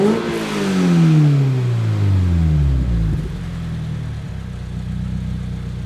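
A 2022 Subaru BRZ fitted with a Grip catback exhaust revs up and falls back to a steady idle, its note sweeping down through the rise and fall and then settling into a low, even rumble nearby.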